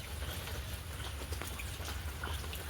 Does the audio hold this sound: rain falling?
yes